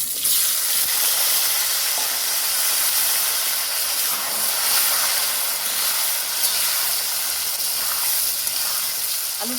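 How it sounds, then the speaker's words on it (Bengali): Potatoes frying in hot oil for a Bengali rui fish curry, a loud steady sizzle and hiss with faint bubbling and occasional pops, no voices. "তেলটা গরম হয়ে গেছে, এখন আমি আলুগুলোকে ভেজে নেব।"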